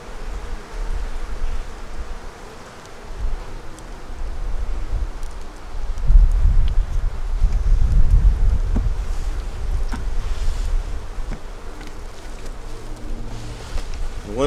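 Honey bees hum in a low, steady drone at an open hive being fed dry sugar in winter, the buzzing swelling in the middle and staying close and continuous throughout.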